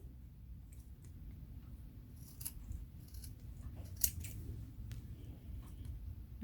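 Scissors trimming a wet sponge for a children's Christmas craft, quiet close snips and small crisp clicks over a low background hum.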